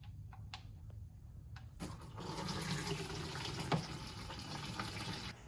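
Fresh transmission fluid pours out of a 48RE transmission pan into a clean bucket, a quiet steady splashing stream after a few light taps and clicks.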